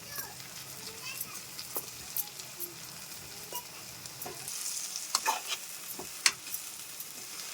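Tamarind leaf and dried fish curry is stirred in a pan, with soft scraping strokes over a gentle sizzle, a few sharper clinks, and children faintly audible in the background.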